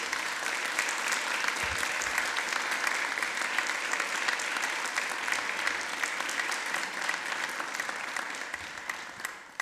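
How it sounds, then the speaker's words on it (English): Loud, sustained applause fills a city council meeting room in Kitchener, many hands clapping in a dense crackle that holds strong and only eases slightly toward the end. "One more round of applause,"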